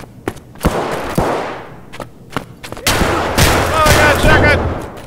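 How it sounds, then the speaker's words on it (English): Shotgun fire in the video game Escape from Tarkov, several sharp blasts spaced irregularly, followed by a denser burst of shots and rumbling impacts near the end. "shotgun!"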